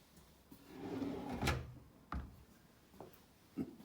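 A solid pine soft-close drawer on side-mount fixings glides shut with a sliding rumble that ends in a soft thump, followed by a few light knocks and clicks, close and quiet without talk.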